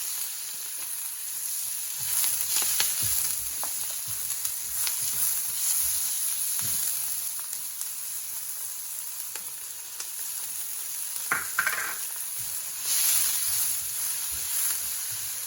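Onions, garlic and ginger sizzle steadily in a hot pan, a continuous frying hiss that swells now and then as the pan is stirred, with a few brief clatters, close and fairly loud, no talking.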